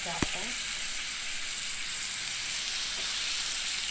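Tender vegetable stalks tossed into prawns frying in a pan give a loud, steady sizzle, with a sharp clank as they go in.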